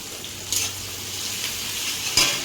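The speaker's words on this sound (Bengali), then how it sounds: "পেঁয়াজটা ভাজা ভাজা হয়ে গেছে, গোটা রসুন দিয়ে দেবো" Onion and whole garlic fry and sizzle in oil in a pan, a steady crackling hiss broken by two sharp scrapes of a spoon stirring, close and without talk.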